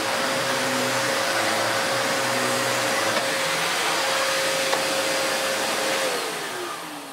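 A Lux 1 Royal D820M vacuum cleaner runs on straight suction with a loud, steady whine and hum close by. The motor holds constant, then starts to wind down near the end.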